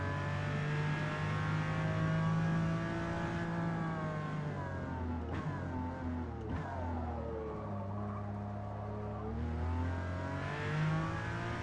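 Simulated 5.7-liter quad-cam V12 car engine revving in a racing video game, with a steady loud drone rising and falling through gear changes and several sharp shifts, continuous throughout.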